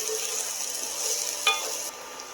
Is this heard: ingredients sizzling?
yes